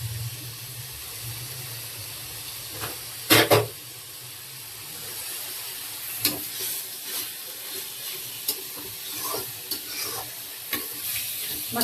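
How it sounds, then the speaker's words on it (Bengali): Potato chops (aloo chop) deep-fry in a pan of hot oil with a constant close sizzle and hiss, broken by occasional stirring knocks and spatters. "এখন আলুর চপ ভাজবো।"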